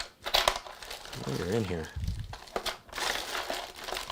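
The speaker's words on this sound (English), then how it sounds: "all that rustling you hear. That's all flash drives" Packaged flash drives rustle and crinkle close up as someone digs through them. The bursts of plastic crackling come and go, and someone talks in between.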